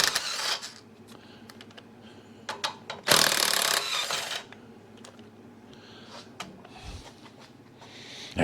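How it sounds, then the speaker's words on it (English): Bolts come out of a vehicle's front suspension shackles under hand tools, scattered metallic clicks, taps and scrapes at an uneven pace, with one loud rasping burst lasting about a second near the middle and no talk. "Now I'm taking the bolts out of the shackles."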